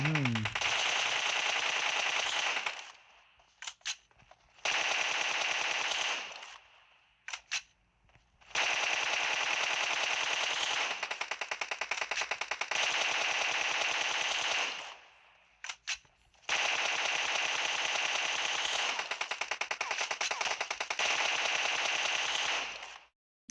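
Long bursts of automatic rifle fire in the shooting game PUBG Mobile, sustained rapid shots broken by short gaps, fairly loud and close.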